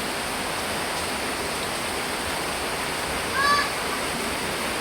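Heavy rain pours down in a steady, dense hiss that continues evenly throughout, with a brief faint chirp partway through.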